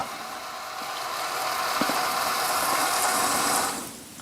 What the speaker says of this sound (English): it's reversing on because it's going to suck everything out of the back